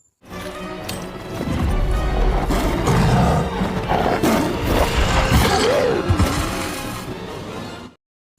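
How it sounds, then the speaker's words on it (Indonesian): A tiger roars in a dramatic film scene set in a forest with Goryeo soldiers, a loud, sustained growling roar over a heavy rumbling score that cuts off abruptly. "nyaris dimangsa oleh seekor harimau"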